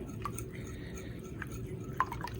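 Wheat flour batter being mixed with turkey pieces, soft wet squishing and dripping sounds in a few short bursts, close and quiet over low background hum.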